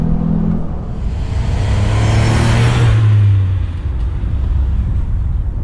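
A Volkswagen Up GTI engine pulls hard in third gear from about 3,000 RPM, its note climbing in pitch and loudness before easing off, heard from inside the car over a broad road rumble.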